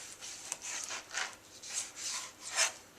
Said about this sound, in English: so we're going to try and slice against the grain